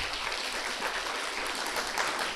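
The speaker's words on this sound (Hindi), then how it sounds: "ताली बजाओ।" Children at a kids' class applaud together in a dense, steady burst of clapping that fills the whole moment, with no talking over it.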